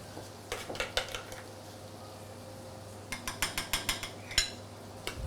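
A small spoon scoops sweet potato purée for plating, making clusters of light metallic clinks and taps against a dish in two quick bursts with a quiet pause between.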